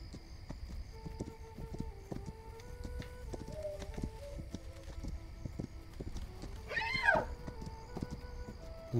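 Horse hooves clip-clop steadily at a moderate distance in a video game, with a brief whinny partway through over faint background music.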